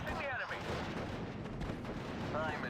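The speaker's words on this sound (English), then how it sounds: "I'm fine with that rifle leader firing away." Rifle fire and other battlefield gunfire crackle through a Normandy 1944 WWII battle in the strategy game Steel Division: Normandy 44, a dense, continuous wall of shots and rumble under a speaking voice.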